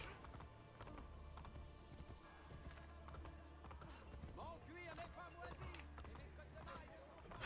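A horse's hooves clip-clop rapidly through the city streets in the Assassin's Creed Brotherhood video game, a steady galloping patter with occasional whinnies, game sounds and voices, fairly quiet overall.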